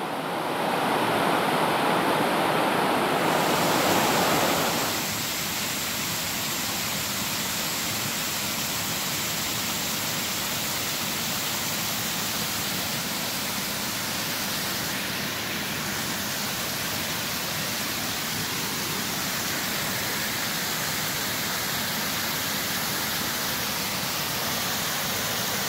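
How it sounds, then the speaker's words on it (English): Water pours steadily over the top of Lost Creek Falls in White County, Tennessee, a continuous broadband rush of falling water and surf-like roar that stays near and loud throughout, with a brighter splash in the opening seconds. "There's where it goes over and becomes Lost Creek Falls."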